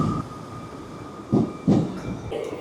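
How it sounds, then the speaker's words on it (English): A Northern passenger train passes a station platform, its wheels and carriages thumping over rail joints in a few loud, irregular beats above a low rumbling background. "That train that I just filmed, that northern train, was going to Carlisle."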